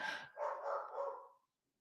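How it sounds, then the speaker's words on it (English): A dog barks nearby, three or four quick, loud barks in a row that stop abruptly. "The dog is barking."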